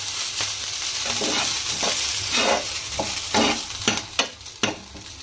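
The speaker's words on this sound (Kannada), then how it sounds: "ಸ್ವಲ್ಪ ಎಣ್ಣೆ ಹಾಕಿ ಇನ್ನೊಂದು ಸ್ವಲ್ಪ ಹೊತ್ತು ಫ್ರೈ ಮಾಡೋಣ್ರಿ" Chopped vegetables frying in oil in a home kitchen pan, a steady sizzle broken by repeated scraping strokes of a spoon stirring, growing sharper and more frequent toward the end.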